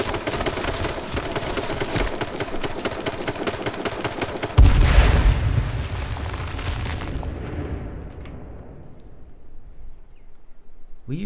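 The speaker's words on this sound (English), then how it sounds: "Were you shooting me then?" Rapid gunfire from an H1Z1 online shooter match, a dense run of shots for about four seconds ending in a heavier boom, then fading to quieter game ambience.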